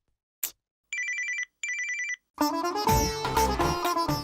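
A landline-style telephone rings in two clear electronic bursts in an otherwise quiet indoor scene from a Tamil TV serial, the rings going unanswered before loud dramatic background music swells in.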